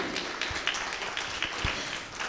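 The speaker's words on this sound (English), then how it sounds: "Can we have a big round of applause for him as well?" Audience applause for a panelist at a hotel industry panel discussion, a modest, fairly thin spread of claps with a few sharper individual hand strikes, steady for a couple of seconds.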